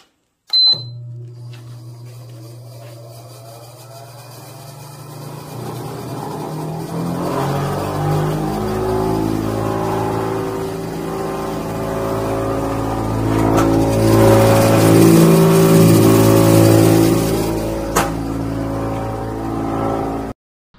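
A loud motor of an old used pepper dryer starts up close by and runs, its droning whine rising in pitch and growing rougher before settling into a steady roar.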